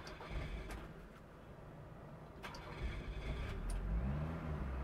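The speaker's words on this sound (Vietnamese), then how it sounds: "Đúng rồi quý anh chị phải nhồi miếng ga nữa mới được" An old car engine is cranked with a few sharp clicks of the starter, then catches and revs up, its rumble rising and swelling toward the end at moderate distance.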